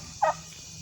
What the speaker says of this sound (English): Turkeys are amassing at their gate.